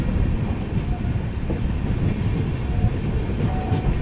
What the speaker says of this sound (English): we are pulling into Shamlaji Road railway station about 2 minutes before time.